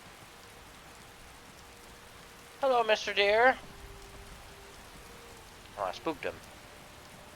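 Steady rainfall in Skyrim patters evenly throughout, with a faint tonal hum, while a voice speaks briefly twice over the downpour.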